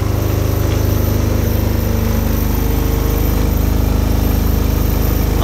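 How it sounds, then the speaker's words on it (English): Myford ML7 lathe running steadily during screwcutting, its change gears turning with a continuous close mechanical hum and faint rhythmic whir, no voices. "There's very little noise coming from the change gears."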